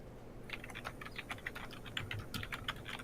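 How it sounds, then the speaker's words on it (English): Rapid, furious typing on a computer keyboard, a dense, irregular patter of close keystroke clicks running continuously with no voices. "Uh-oh, I hear furious typing."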